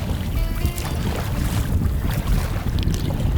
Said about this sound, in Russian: Нормальные такие волны.